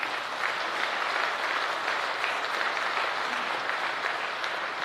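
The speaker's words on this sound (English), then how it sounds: "You guys give these secretaries a round of applause." A lodge crowd at a Freemasons' Founders' Day gathering gives a sustained round of applause for their secretaries, steady dense clapping filling the room without a break.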